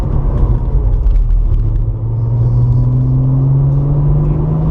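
Porsche 997 Targa 4S engine on a race circuit at the Circuit de Bresse, a loud steady rumbling drone that rises in pitch as the car accelerates, close and continuous throughout.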